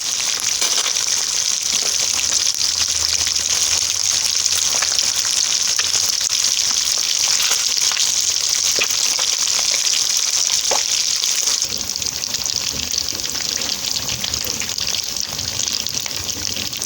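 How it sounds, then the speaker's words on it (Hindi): Fish fries in oil in a kadhai with a constant loud, bright sizzle and crackle that holds steady throughout, with no voices. "थोड़ा सा ऑयल आप ऐड कर लें कढ़ाई में या फ्राई पैन में, जिसमें आप इजीली फ्राई कर सकें फ़िश को।"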